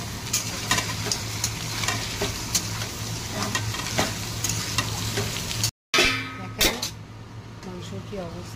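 Fried onions with added spices sizzle steadily in a pan while a spoon stirs and scrapes in repeated strokes, loud and close, with a brief cut partway through.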